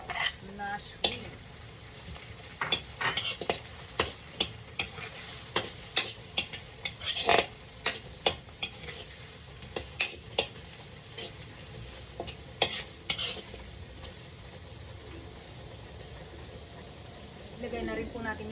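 Spatula scraping and clattering in a pan as chorizo and shrimp are stir-fried for pansit, with repeated sharp metallic strikes in an uneven rhythm over a steady background sizzle.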